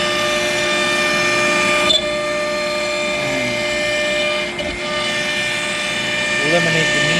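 An Altmill CNC router mills a raised-panel cabinet kitchen door, a steady high-pitched whine of the spinning spindle and cutter humming continuously with slight shifts in pitch, someone talking over it at times.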